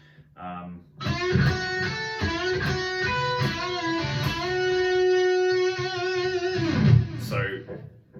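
A distorted electric guitar plays a short lick of quick notes from a song's first solo, ending on a long held note with wide, wobbling vibrato, with no voices.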